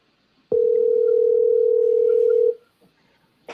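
A steady, loud telephone tone sounds for about two seconds after an abrupt start, then cuts off, leaving faint background noise.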